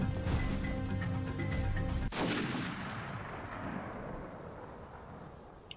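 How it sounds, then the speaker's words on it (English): A gunshot in the video game Kingdom Hearts Final Mix: one loud, sharp blast partway through cuts over game music and leaves a long, noisy decaying crash. No speech. "Gunshot happens."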